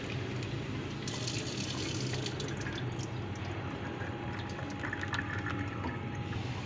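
Water splashes steadily into a pot of kadhi mixture, a constant running pour with faint drips, moderately quiet and with no talking.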